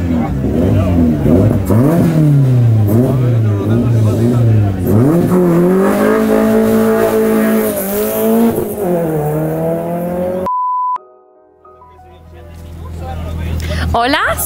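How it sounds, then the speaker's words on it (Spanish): Citroën AX rally car at a city rally stage start, its engine revving loud and close for several seconds under a voice counting down, then cutting off abruptly with a brief electronic tone and quieter engine sound rising again. "el vehículo número 98 de este Citroën AX, 5, 4, 3, 2, 1, toma la partida el vehículo número 98."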